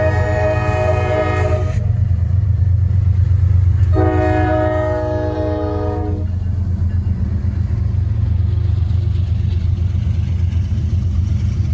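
Freight train Q648 rumbling through a downtown, a loud steady low rumble throughout with two long horn blasts, one early and one around the middle, no talking.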